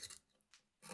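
A knife shaves wood from a guitar neck in two close, rasping strokes at the start and end, with a quieter scrape between them.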